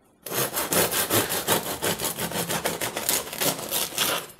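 A knife saws through the crisp crust of a homemade quark sourdough loaf made with wheat sourdough, giving a close, steady run of rasping strokes in a regular back-and-forth rhythm with no talking.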